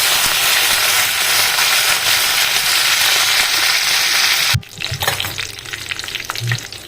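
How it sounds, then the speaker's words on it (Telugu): Ivy gourd hits hot oil already crackling with cumin and mustard seed tempering, giving a loud, dense, steady sizzle that suddenly drops to a softer fry broken by spoon scrapes and stirring clatters. "ఇప్పుడు దొండకాయలను వేసేసుకుంటున్నాను వేసుకొని బాగా కలుపుకోవాలి మధ్య మధ్యలో కలుపుతూ మూత పెట్టి బాగా వేయించుకోవాలి"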